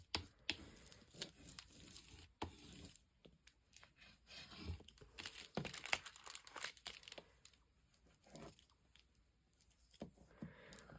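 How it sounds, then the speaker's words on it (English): Paper being burnished with a bone folder while making a Halloween junk journal: close, quiet scraping, rubbing and crinkling strokes in irregular bursts with brief pauses. "I'm going to burnish this down with my bone folder."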